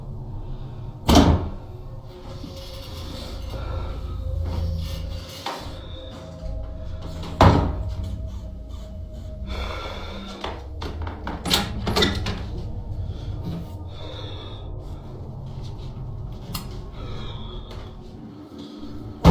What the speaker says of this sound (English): woken by banging on the closet door